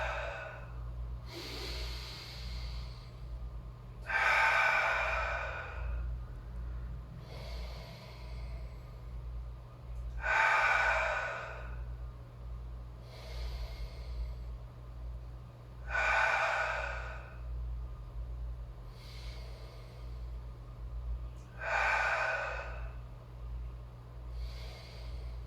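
Slow, deep breaths during a stretching exercise, each inhale and exhale audible at regular intervals of a few seconds, close and quiet over a low steady background hum.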